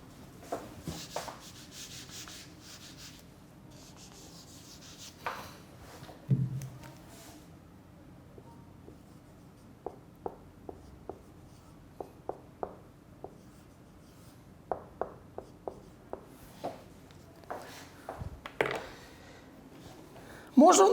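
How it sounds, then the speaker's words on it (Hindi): Marker or chalk writing on a board during an English lecture: a sparse series of short scratchy strokes and taps, faint and close, with a few quiet sounds in between. "मैं ऊपर ही लिख देता हूँ।"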